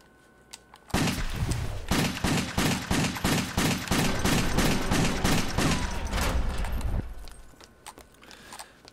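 Pistol fire in the PlayStation 3 game Wet cracks out as a rapid, evenly spaced burst of about a dozen loud shots over several seconds, close and punchy, with no talk over it.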